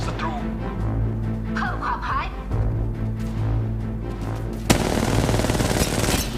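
Rapid gunfire in the mobile shooter Apex Legends Mobile crackles in bursts under excited talk, then breaks into a loud, dense volley of shots near the end.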